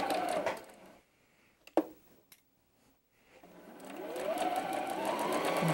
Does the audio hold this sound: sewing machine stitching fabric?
yes